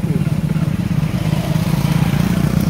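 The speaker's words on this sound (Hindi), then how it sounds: "पछरे गोटे गाड़ी आउची बाइक आउची" A motorcycle on a road at night, its steady mid-pitched engine drone continuous and fairly close, holding a throbbing rumble throughout without a clear rise or fade.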